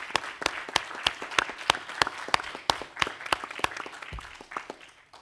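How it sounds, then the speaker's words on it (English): Applause from an audience at a science briefing event, a modest group clapping with distinct individual claps audible, steady then thinning out toward the end. "a big round of applause for everyone, please"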